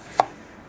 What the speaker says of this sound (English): I like to slice my onions thin for the burger